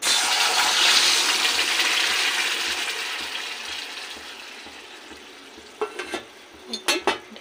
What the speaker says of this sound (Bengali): এই যে তেলটা আমার গরম হয়ে এসছে। তেলটা আমার গরম হয়ে গেছে। এর মধ্যে আমি এই পেস্টটা ঢেলে দেব।